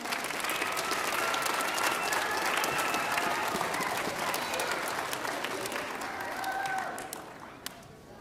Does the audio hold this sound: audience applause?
yes